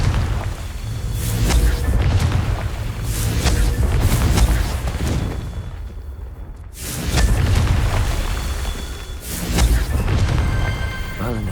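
Spell blasts from the Confringo fire curse in the Hogwarts Legacy video game, loud booming explosions in several heavy waves with crackling debris and game sound mixed in, the roar swelling and fading over about eleven seconds.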